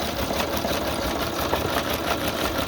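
A sewing machine runs steadily, stitching through paper pages of a handmade junk journal, a dense continuous whirring drone up close with no pauses.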